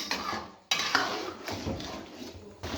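A spoon scrapes and clatters in a pan as chicken achari with tomatoes is stirred over a high flame, irregular metallic knocks and scrapes close up, with no talking.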